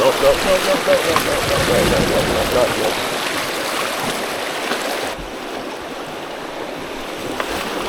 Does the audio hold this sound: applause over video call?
no